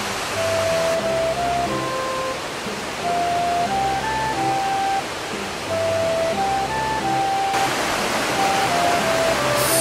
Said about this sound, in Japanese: そしてまた川を見に来てしまいました。